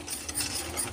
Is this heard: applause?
no